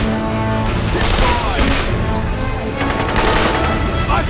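Gunfire rattles in the video game The Darkness II shooting gallery, loud close automatic bursts with booming impacts running nearly continuously, mixed with game noise and brief voices.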